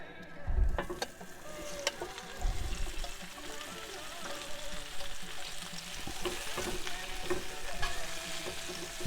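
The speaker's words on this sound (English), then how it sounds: "We'll just fry up a few veggies." Vegetables fry in a pan at a campsite with a steady, crackling sizzle and occasional stirring, heard fairly close amid outdoor background noise.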